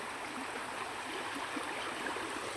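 Strong, forceful water rushing steadily through a year-round farm channel on a small three-acre farm, a continuous broadband roar with no voices.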